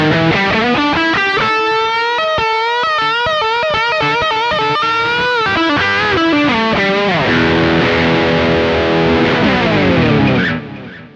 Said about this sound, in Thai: เดี๋ยวเรามาฟังเสียงกีตาร์เปล่าๆกันบ้างครับเริ่มด้วยพิกอัพตัวบิดนะ